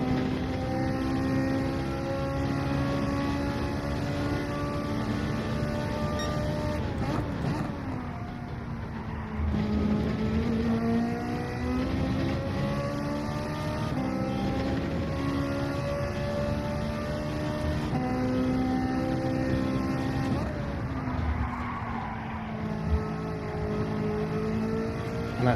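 Racing car engine of a McLaren in Gran Turismo 7 at Interlagos, steady loud near revving with rising and falling harmonics through gear shifts, a dip in pitch under braking around the middle, continuous throughout with no talk.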